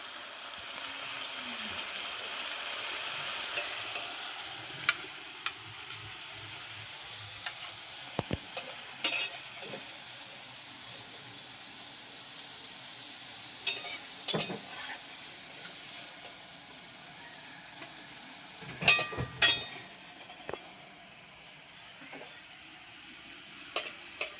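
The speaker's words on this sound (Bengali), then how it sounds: "এবার আমি কড়াইতে না তেল দিয়ে পটলটাকে একটু নাড়াচাড়া করে নেবো হালকা করে।" Pointed gourd is stirred in a wok, where a soft continuous sizzle runs under scattered sharp scrapes and clinks of the utensil against the pan.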